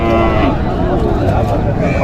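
Cattle at a weekly livestock market in Tamil Nadu, including an old pair of cows, give a loud, close, drawn-out moo over crowd murmur, with someone talking through it.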